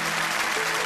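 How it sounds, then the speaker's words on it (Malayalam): Applause from a church gathering for a girl who answered a quiz question correctly, a dense, steady burst of many hands clapping, brief and fairly loud. "നല്ലൊരു കയ്യടി കൊടുത്തേ മോൾക്ക്."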